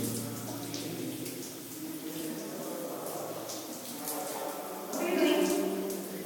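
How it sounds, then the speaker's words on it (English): Water runs from a tap in a shower room and splashes against the wall nearby. The steady spray rushes close to the listener and grows briefly louder near the end, with faint background voices. "you see the water is splashing near the Paikini wall"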